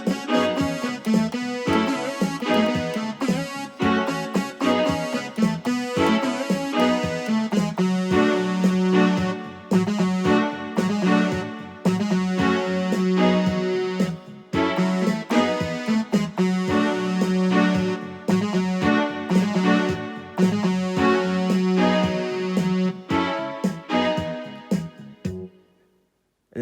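Casio CT-X5000 electronic keyboard playing a steady, harmonically rich passage at an even loudness, continuous for about twenty-five seconds before stopping abruptly.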